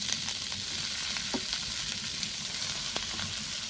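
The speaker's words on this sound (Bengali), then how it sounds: "এবার পরিষ্কার করে কেটে বেছে ধুয়ে রাখা শাকগুলো দিয়ে দেবো" Leafy greens with tomato frying in oil on a clay stove, a steady close sizzle with faint stirring clicks throughout, no voices.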